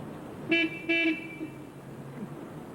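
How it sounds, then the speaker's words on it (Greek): Two short car horn honks, close and fairly loud, about half a second apart, followed by quiet idling background. "Πατήστε την κόρνα τώρα."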